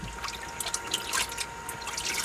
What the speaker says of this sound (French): Je vais aller rincer maintenant avec l'eau propre